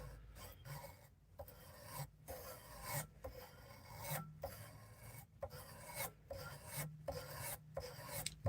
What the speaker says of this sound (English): I want to kind of move in this direction up and down the blade because I don't want to mess one up whilst sharpening the other